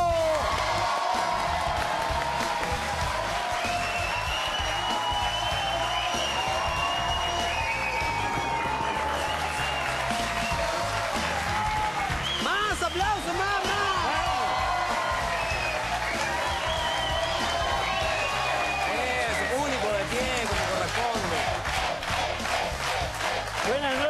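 A television studio audience breaks into loud, sustained applause, with cheers and whoops carrying throughout, and voices rising above the clapping.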